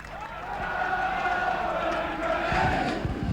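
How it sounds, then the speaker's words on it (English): A rugby league crowd roars and cheers at Derwent Park during a 1995 Workington Town versus Salford championship match, a sustained, broad wash of distant noise beneath a commentator's voice. "And the crowd are alive at Derwent Park."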